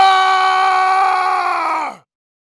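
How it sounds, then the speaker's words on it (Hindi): A loud, sustained scream in an animated horror story, a single harmonic cry of about two seconds that breaks off abruptly into silence. "फिर अचानक एक जोरों की चीख सुन के"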